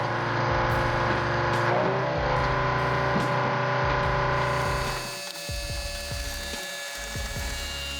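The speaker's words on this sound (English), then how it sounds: "You can hear the dual rams sync perfectly, pressing with over 150 tons of force." Dual-ram hydraulic press with over 150 tons of force crushing cars into scrap: continuous grinding mechanical drone with ratcheting clanks and creaking metal, loud and close, easing off partway through before irregular clunks return.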